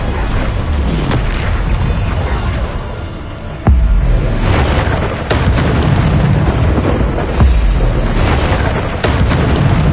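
Repeated Bombarda spell blasts in Hogwarts Legacy, loud booming explosions with whooshing bursts recurring every couple of seconds over a constant roar of game sound.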